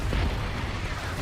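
A short, loud magical blast from the Expulso spell in Hogwarts Legacy, a dense booming burst filling the whole moment.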